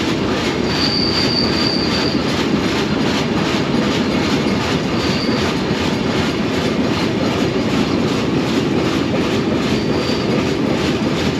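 The Sundarban Express train rumbles steadily along the rails across the Padma Bridge in a loud, continuous roar, with a thin metallic wheel squeal rising now and then.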